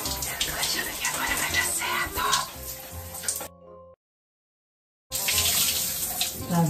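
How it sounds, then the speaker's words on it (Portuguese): Tap water runs steadily into a sink while bleached hair is rinsed, a loud, close splashing rush that cuts out abruptly for about a second before resuming at full strength. "Eu vou enxaguar logo."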